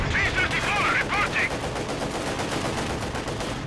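Panzerfaust fire in Company of Heroes 2 during a 1v1 match, a dense, loud, continuous barrage of gunfire with rapid repeating shots and a brief high whine early on.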